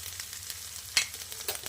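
Onion and garlic frying in a pan with vegetables about to go in, a soft steady sizzle with a few sharper crackles and spatters near the one-second mark, close by and fairly quiet, with no talking.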